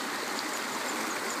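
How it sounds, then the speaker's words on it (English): A small creek runs through a grassy gully, giving a steady, close rush of flowing water that continues evenly throughout with no voices. "Little grassy area down to the creek. A very pleasant little creek."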